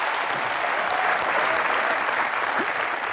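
Studio audience applause on a comedy talk show, a dense, steady wash of clapping and cheering that holds at full strength throughout, close and loud with no speech.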